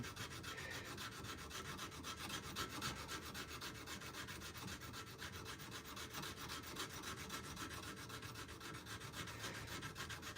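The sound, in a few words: sanding wood with sanding sticks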